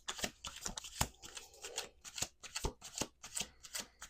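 Close, crisp riffling and snapping of tarot-style reading cards being shuffled, in quick bursts with sharp slaps, no talking.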